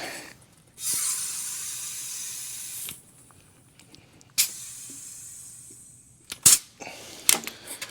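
Air is pumped in to pressurize a part during prep for a 1949 engine swap, giving loud bursts of hissing air separated by quiet gaps, then sharp clicks and short spurts near the end.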